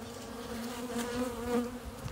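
Honeybees hum and buzz inside a hive where a new queen is being introduced, a steady close drone with slight swells and no voices.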